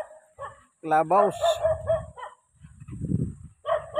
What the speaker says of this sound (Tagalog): may aso sa sitaas